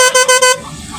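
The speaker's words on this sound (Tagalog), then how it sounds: "Busina." A motorcycle horn sounds in three short, loud, closely spaced beeps with a bright buzzing tone, tested up close in a workshop, followed by quiet background.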